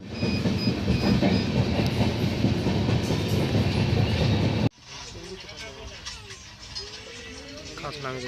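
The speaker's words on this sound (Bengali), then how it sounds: "আগ্রা ফোর্ট স্টেশন ছাড়ার পর এই ট্রেনের পরের স্টপেজ হচ্ছে টুন্ডালা জাংশন" The Ananya Express passenger train runs on the rails from Agra Fort toward Tundla Junction, a loud steady rumble and wheel clatter that suddenly drops to a quieter, muffled interior sound partway through.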